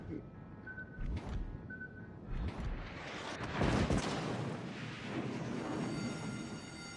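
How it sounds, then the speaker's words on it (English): Naval shells slam into a warship in World of Warships: Legends, with heavy booming impacts and rumbling explosions swelling to a loud peak midway, then a sustained roar, as someone talks over the action. "Okay, so he's shooting me."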